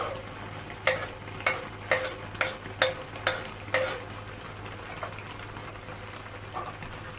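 Chickpea curry (kadala curry) boiling in a pot, with sharp, close bubbling pops landing at irregular intervals over a quiet background and no talking.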